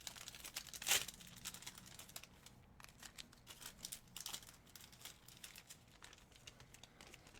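Foil baseball card pack wrappers crinkle and tear open, a sharp rip near the start followed by steady soft crackling and rustling, faint and close with no talking.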